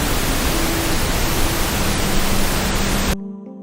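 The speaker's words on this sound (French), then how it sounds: "Le bruit blanc, c'est un peu comme un rideau sonore qui recouvre tout le spectre des fréquences de manière égale" Loud broadband noise fills the first three seconds as a dense, even hiss like static, then cuts off abruptly into near silence with a faint low hum.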